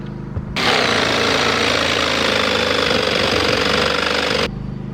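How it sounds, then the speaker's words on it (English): Power drill boring relief holes into a cargo trailer, one sustained loud grinding whir lasting about four seconds with a rattling vibration, close by, starting and stopping abruptly against quieter background. "I just drilled myself some more relief holes"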